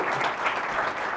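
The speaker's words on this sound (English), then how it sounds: "Give them a round of applause" Audience applause at a landscaping business conference, a steady dense wash of clapping throughout a short burst, fairly close and even in level.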